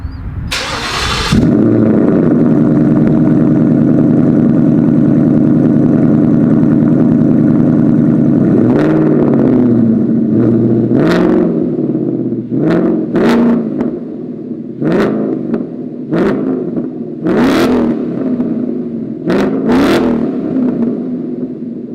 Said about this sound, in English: let me go ahead and do a quick little exhaust clip for you guys